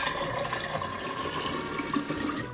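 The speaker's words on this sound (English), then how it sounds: "I am putting the sweet tea into the jar now that it has begun to cool." Cooled sweet tea for kombucha pours steadily into a jar, a continuous gurgling and splashing stream of liquid heard close and fairly loud.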